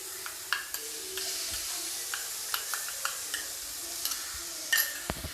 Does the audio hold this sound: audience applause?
no